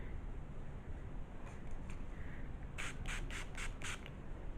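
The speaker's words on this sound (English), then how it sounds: "I'm going to spray the hair." Five or six quick hisses from a spray bottle misting hair fire in a rapid row, close to the microphone over a faint background rumble.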